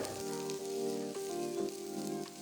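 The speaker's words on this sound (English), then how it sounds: "Saute the onions for about a minute." Sliced onions sauté in hot ghee with a steady, dense sizzle that stays loud and close throughout, with no voices.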